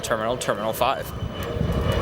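A Royal Jordanian airliner in Petra livery taxis at O'Hare from the international terminal, its engines making a low, steady rumble beneath someone talking close by.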